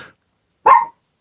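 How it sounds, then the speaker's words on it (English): A single short dog bark, close and fairly loud, preceded by a faint trailing sound and otherwise surrounded by silence. "the dog's trying to get in on the action"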